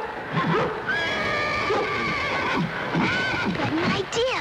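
A horse whinnies repeatedly in a series of shrill, wavering neighs at close range, with hoof clops underneath, in a 1961 rodeo-themed television episode.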